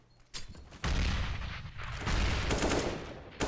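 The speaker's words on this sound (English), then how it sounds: "Frozen fires away with his deagle" Rapid Desert Eagle pistol fire in Counter-Strike on the Inferno map, loud close bursts of repeated shots that sustain for most of the stretch after a brief quiet opening.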